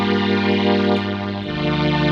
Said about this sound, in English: This is the Hohner International String Melody 2, a vintage string machine from the 70s.